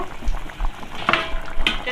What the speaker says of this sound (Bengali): এবার এইভাবে আর একটুখানি দু মিনিট মতো ফুটিয়ে নেব